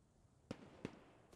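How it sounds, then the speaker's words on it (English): Two sharp distant booms land a fraction of a second apart during an artillery bombardment in the World War II shooter Post Scriptum, each a short thudding blast over a low background rumble. "Maximum shell shock as both teams are lining up to bombard each other with artillery."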